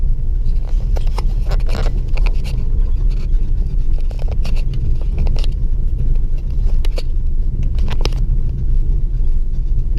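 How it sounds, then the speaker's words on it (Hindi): A manual car driving on a road while shifting gears, a loud continuous low engine and road rumble with scattered rattles and clicks from inside the cabin, no voices heard. "गाड़ी किस तरह से चल रही है।"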